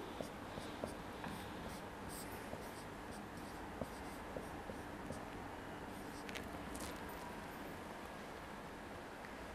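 Chalk or pen scratches out an equation on a board during a physics lesson on electrostatics, faint, soft strokes with small taps over quiet room noise.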